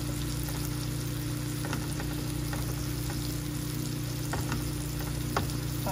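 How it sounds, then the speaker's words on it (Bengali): Butter sizzles steadily in a pan with mushrooms and spinach, a constant close frying hiss over a low hum, with a few faint clicks of stirring and no talking. "চলো ভালো করে মাশরুম আর স্পিনাচগুলো রান্না করে নিব এখন।"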